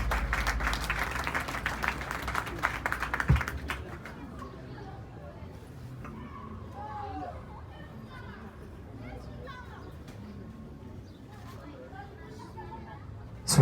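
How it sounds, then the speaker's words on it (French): A school awards-day audience applauds loudly for a few seconds, then the clapping fades into chatter and children's voices murmuring in a large room. "Sous vos applaudissements, s'il vous plaît."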